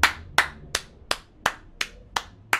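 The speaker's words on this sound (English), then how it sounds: "Great play. Let's all applaud." A single person claps hands slowly and evenly, eight crisp close claps spaced about a third of a second apart with brief decay between each.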